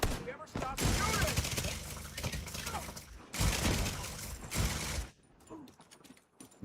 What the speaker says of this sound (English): Never stop shooting!